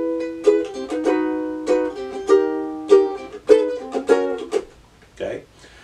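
A ukulele strums the chorus chords of a song in quick, bright bursts of clear plucked tones. Each chord rings out on its own with short gaps between, and the strumming ends in a softer, muted hit.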